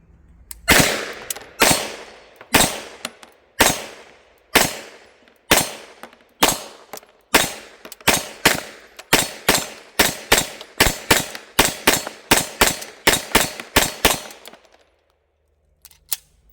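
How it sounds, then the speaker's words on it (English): An MPA DS9 pistol fires about two dozen close, sharp shots at a C-zone-size steel target on a shooting range, in a steady, fairly quick rhythm before falling silent. "Shoot a group on the C-zone size steel here."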